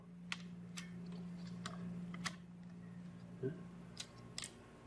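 A P408i-a RAID controller being loosened and pulled out of an HPE ProLiant DL360 Gen10 server, heard as sparse, close clicks and small plastic and metal ticks over a steady machine hum.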